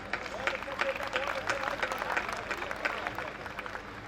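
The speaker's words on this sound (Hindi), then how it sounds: "लेकिन आपने इतनी तालियां दी तो मैं आभार व्यक्त कर रही हूं आप सभी का" Audience applause at a Hindi comic poetry gathering in Rajnandgaon, a dense, steady wash of many hands clapping throughout, moderately loud and continuous with crowd murmur mixed in.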